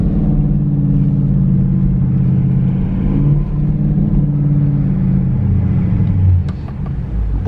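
A Dodge Charger R/T drives off with a steady, close engine rumble that holds throughout, easing slightly at the end; no one speaks.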